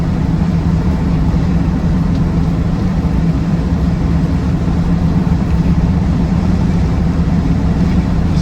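Land Rover Defender 90 TD5 diesel engine running steadily while the vehicle drives along, a continuous low rumble with road and wind noise, loud and even throughout with no talking.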